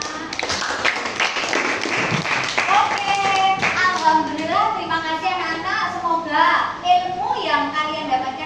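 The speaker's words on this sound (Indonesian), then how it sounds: "Aplaus untuk Naila, anak-anak." Children clap together in a classroom, a burst of applause that gives way to a teacher's voice and kids chattering.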